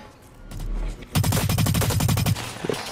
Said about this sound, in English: just walk into my bullets